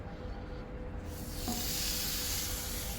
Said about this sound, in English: And you already hear that sizzling away.